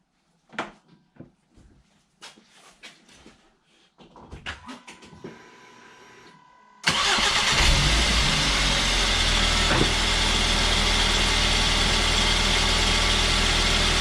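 A 2011 Volvo V50 2.0 petrol engine turns over and catches at once, then idles loudly and steadily for several seconds after a few faint clicks and rustles.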